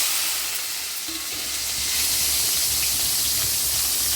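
Mustard seeds, asafoetida, shallots and tomato sizzling in hot oil for a dal tempering, a loud, dense, steady hiss that swells slightly partway through, with no talk.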